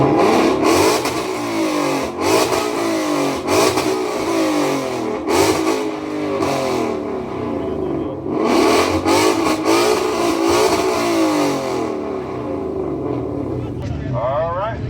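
A Ford Mustang at Daytona in 2025 revs its exhaust in an exhaust competition, with loud repeated throttle blips and surges close by. Crowd noise and talking run underneath.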